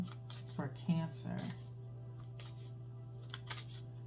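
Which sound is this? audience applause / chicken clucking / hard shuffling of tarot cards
hard shuffling of tarot cards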